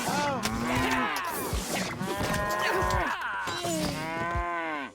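Cows moo in the mobile game South Park Phone Destroyer, Team Wars mode, with loud, drawn-out, overlapping calls that follow one another almost continuously before cutting off at the end.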